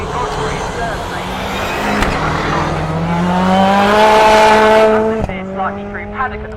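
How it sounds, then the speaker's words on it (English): A Citroen DS3 rallycross car at Lydden Hill blasting through the chicane, its engine note climbing and shifting loudly across gear changes, with a commentator talking over it throughout. "flings his Citroen DS3 through the chicane"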